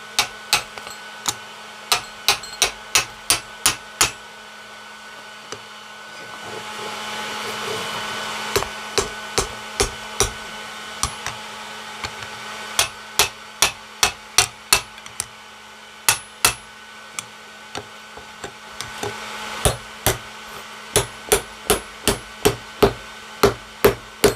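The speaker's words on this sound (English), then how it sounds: "Now we'll just take it here on the side of the forge with an anvil and just drive it down" A hammer drives a forged grappling hook down on an anvil beside a forge. Dozens of sharp, ringing metal blows fall in a steady rhythm over the forge's constant roar.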